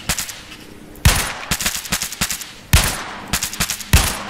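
Bursts of suppressing machine gun fire in a military shooter video game, rapid repeated loud shots in several clusters with sharp onsets and short gaps between volleys, no talking.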